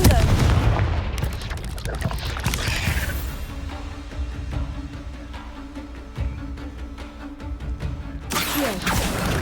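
A Confringo blasting spell in Hogwarts Legacy sets off heavy booming explosions, loud at the start and end, with a dense rumble and crackling blasts sustained in between and no voice over it.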